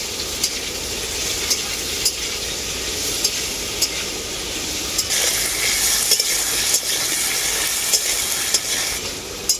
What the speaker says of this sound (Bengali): আলুটাকেও আমি খুব ভালো করে ভেজে নেবো